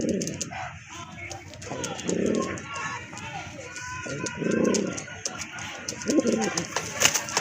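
A pair of Madrasi Golla pigeons coo in low, soft bursts at a market stall, heard close among chatter and other birds, with someone talking over them.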